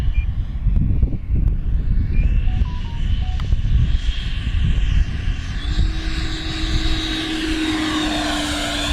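A Banana Hobby Aerofoam 105mm 12s-powered Diamond RC jet flies overhead, its electric ducted fan giving a steady loud roar and whine that rises in pitch toward the end as the jet passes close.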